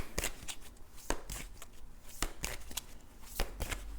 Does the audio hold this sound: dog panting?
no